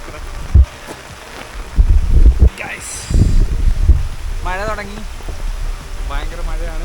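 Heavy monsoon rain at Green Valley Park in Belapur hisses steadily under a person speaking, with wind buffeting and a few loud close knocks against the microphone.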